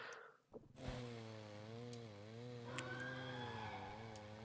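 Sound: chainsaw in a video game

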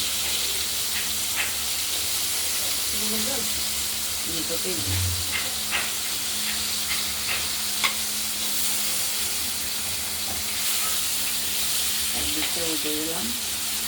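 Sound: katla fish frying in a pan

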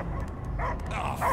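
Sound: dog barking in Guardians of the Galaxy video game

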